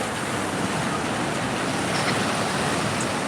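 Waves at Sambolo 1 beach give a continuous broadband wash of surf, loud and close, with wind roughness and no talk.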